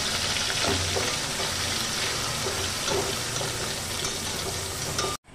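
Ground spice paste for a pabda fish dish fries in a pan, giving a dense, loud, steady sizzle with faint stirring scrapes that stops abruptly at the end, with no voices.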